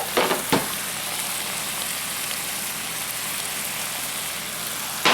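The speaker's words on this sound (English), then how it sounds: "I put a little bit of butter in to fry the meat in" Venison and wild pig meat fry in butter for fried rice, a constant dense sizzle with a few sharp clatters of utensils at the start and end.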